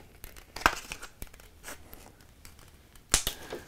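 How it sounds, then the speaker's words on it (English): Scissors cut a small notch into a plastic 2-liter bottle, giving a few crisp snips and crinkles of the plastic. Two stronger cuts stand out against a quiet background. "now what I do is I cut a little notch for my nose"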